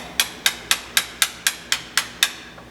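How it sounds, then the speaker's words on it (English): Nine sharp metallic taps of a small ball peen hammer striking a bolt while removing a pilot bearing, evenly spaced about a quarter second apart, each ringing briefly before the next. "I just have my small ball peen hammer right now."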